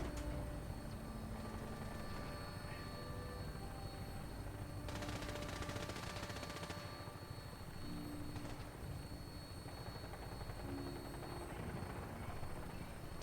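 Rapid gunfire rattles through a Fallout 4 video game scene, a sustained automatic burst over a constant helicopter-like engine drone, fairly faint and with no talking.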